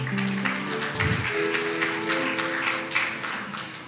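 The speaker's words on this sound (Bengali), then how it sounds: "তার অভিজ্ঞতাকে আমরা সম্মান জানিয়ে একটা করতালি দিতে পারি।" Audience applause for a guest seated in the front row at a stage event, a steady burst of clapping filling the room for about four seconds over a faint low hum.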